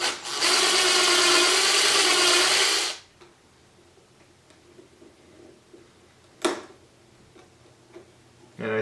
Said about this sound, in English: Let me put a little pilot hole.